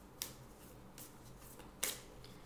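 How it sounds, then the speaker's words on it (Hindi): Moonology Oracle cards are shuffled by hand, with two brisk riffling bursts and lighter card rustles between them, close and fairly quiet. "Let's get a Moonology Oracle card as an advice."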